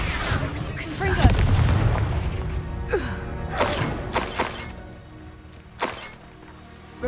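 A Confringo fire spell in Hogwarts Legacy bursts with a loud booming blast, followed by several sharper cracks and impacts through a magic duel, while voices shout over the combat.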